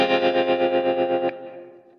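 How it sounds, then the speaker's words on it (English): Electric guitar processed through a tremolo effect and Roomworks SC reverb in Cubase, a sustained chord pulsing in steady rhythmic waves before cutting off into a short fading reverb tail. "I'm going to use the Roomworks SC reverb to add a little bit of space to my guitar"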